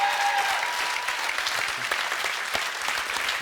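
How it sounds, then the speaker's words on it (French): A television studio audience gives a sustained ovation for Swiss figure skater and world champion Stéphane Lambiel, dense, continuous clapping that stays loud throughout. "Un tonnerre d'applaudissements pour Stéphane Lambiel"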